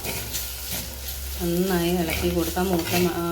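Onions and turmeric powder stir and sizzle in a pan for a Kerala-style pepper chicken, a steady hiss with scraping of the spoon, while a voice talks over the second half.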